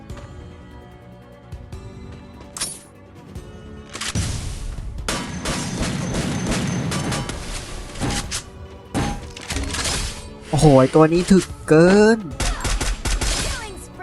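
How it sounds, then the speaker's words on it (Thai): Explosions and blasts of gunfire from a Free Fire match, with two grenade detonations and shotgun shots crashing loudly over one another while a player talks excitedly over the chaotic game sounds. "โดนระเบิดสองเม็ด โดนซองอัดตัวไปอีก"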